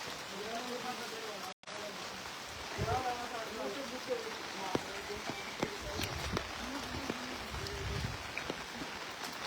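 Steady rain hisses outdoors in a village with scattered drips and splashes, a brief dropout partway through, and faint voices murmuring in the background.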